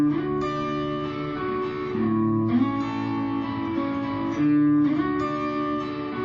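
Electric guitar playing a song riff, a repeating pattern of clear sustained notes and chord changes, close and moderately loud, with no talking.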